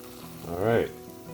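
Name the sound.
Trader Joe's fettuccine with mushrooms frying in a pan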